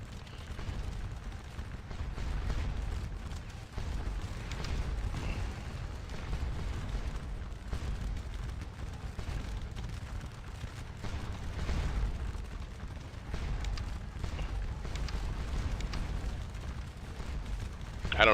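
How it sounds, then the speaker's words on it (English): Continuous low rumble of massed artillery fire and explosions on a Napoleonic battlefield at Ligny in the strategy game Scourge of War: Waterloo, a dense, distant booming wash that never lets up. "Had enough of the artillery for the day"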